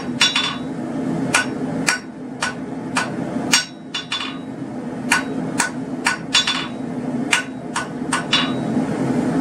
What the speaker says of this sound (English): I'm going to come in with another heat and I'm going to knock down these corners